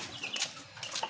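A chicken clucks a few quick, faint notes close by in a short burst.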